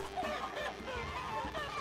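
A flock of chickens clucking in the video game TABS (Totally Accurate Battle Simulator), a dense crowded chatter of overlapping clucks at moderate level with no pauses.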